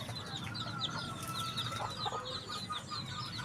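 A backyard hen with a brood of ten chicks keeps up a run of quiet clucks and chirps. The sound is faint and steady against a low outdoor hum.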